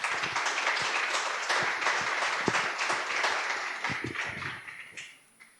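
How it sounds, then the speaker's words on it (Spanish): A church congregation applauds steadily in a dense, sustained wash of clapping that fades away at the close. "Denle un aplauso al Señor,"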